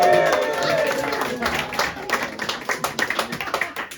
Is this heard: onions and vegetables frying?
no